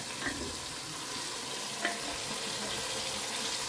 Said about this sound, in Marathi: सो हें पळयात मटन घातलां आनी बरें ताका मिक्स करून घेयात.